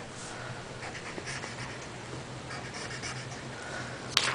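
A pen scratches steadily across paper while stick figures in a war scene are sketched, with soft continuous strokes and small taps close up, ending in a sharper tick.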